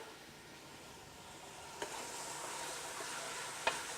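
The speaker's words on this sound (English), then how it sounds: "So you can hear the nice sizzle going on." A steady, quiet sizzle of onions sautéing in a pan, with two brief sharp clinks of a utensil against the pan.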